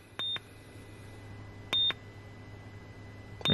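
A diagnostic scan tool for a Ford Ranger gives three short electronic beeps while erasing a P0113 air intake temperature fault code, two spaced clearly apart and a third at the end, over a quiet background hum.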